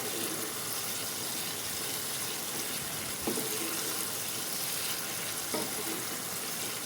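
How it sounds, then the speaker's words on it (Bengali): Water added to a Bengali-style Rui fish curry paste and stirred in a pan: a steady watery sizzle with a couple of soft spoon clinks, continuous and close. "আর অ্যাড করছি সামান্য জল দিয়ে আমি সেটাকে নেড়ে চেড়ে নিচ্ছি ভালো মতো।"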